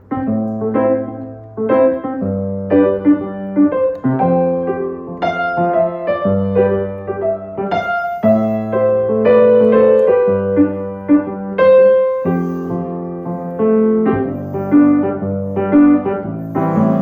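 Piano chords played in a steady, choppy reggae offbeat rhythm, bass notes in the left hand and short stabs on top, loud and close with no talking.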